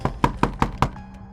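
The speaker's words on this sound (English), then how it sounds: "I knocked on the door" Five quick, sharp knocks on a door in an even rhythm, close and fairly loud, followed by a brief quiet pause.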